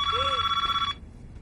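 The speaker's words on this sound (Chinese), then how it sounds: "喂，电话，电话响了，接电话。" A telephone rings loudly and steadily for about a second with a bright, continuous electronic trill in an indoor setting, then cuts off, leaving a quiet room with faint background noise.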